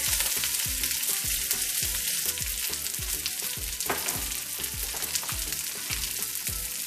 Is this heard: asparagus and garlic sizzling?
yes